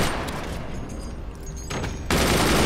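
Rapid automatic gunfire from machine gunner emplacements in the naval strategy game Forts, a steady crackling barrage that swells sharply louder near the end.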